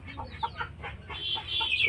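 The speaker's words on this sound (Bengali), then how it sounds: "ভিতরে দেখেন মুরগি আছে" Chickens clucking inside a dark coop, a short run of soft, close, rhythmic clucks building slightly louder toward the end.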